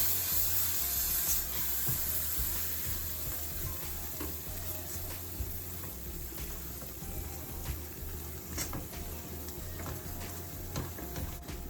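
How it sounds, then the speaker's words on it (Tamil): Ground spice paste sautéed in a pan for a spicy Sri Lankan crab curry, a continuous close sizzle and frying crackle with stirring scrapes, with no talking. "நாங்கள் அரைச்சி வச்சுருக்கிறத சேர்க்கிறோம் இதை ஒரு வதக்கு வதக்கணும்"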